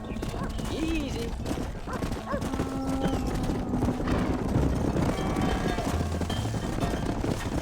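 A herd of horses trots in the Red Dead Redemption video game, with continuous clip-clop hoofbeats close by, an occasional whinny and a person speaking over them.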